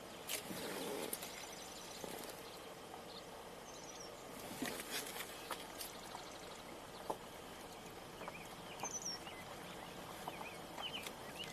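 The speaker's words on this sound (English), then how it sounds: "Hearing a robin sing." An American robin sings along a roadside during a summer birding drive, its phrases faint and intermittent among other distant birds and steady outdoor background noise.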